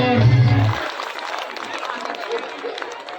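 Crowd applause at an outdoor devotional event in Uttarakhand for a folk singer, a steady wash of clapping that continues after a brief loud musical tone at the start, with some voices mixed in.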